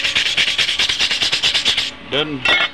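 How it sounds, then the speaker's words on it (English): Wire brush scrubbing an aluminum bracket down to bare metal, a close, loud run of rhythmic rasping strokes, about a dozen in quick succession, then a pause and a couple of brief scrapes. "Brush your aluminum down to bare metal."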